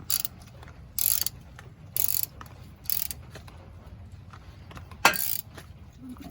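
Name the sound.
ratchet loosening long bolts on a car AC part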